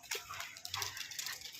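A dog gives short yips and whimpery barks, fairly close and moderately loud, over a noisy outdoor background.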